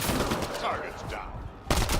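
Gunfire in the sci-fi shooter Mass Effect: Andromeda, a dense burst of shots that runs through the whole moment, fairly loud amid layered game sound, with a sharper crack near the end.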